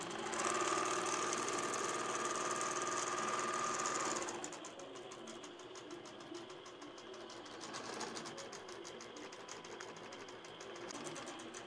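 An INNOVA AutoPilot computer-guided quilting machine sews continuously across a quilt, whirring steadily near the mic; partway through the hum drops in pitch and level and carries on more quietly.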